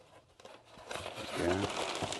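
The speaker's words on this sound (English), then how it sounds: "Have a little bit of extra cardboard. I'll just kind of fold them." Extra cardboard is folded by hand for packing, giving crinkling and crunching, close and fairly quiet, louder toward the end, with a voice briefly audible.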